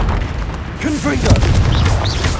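A Confringo fire spell explodes in a Hogwarts Legacy duel, a deep booming burst over the rumbling combat mix, with whooshing swirls of magical effects trailing after it; a voice shouts spell names over the action.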